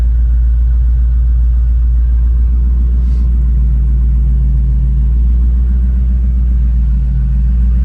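A deep, steady Ford Coyote V8 engine rumble from a 1964 Ford F100 truck idling close by, loud and constant with a low throbbing tone throughout.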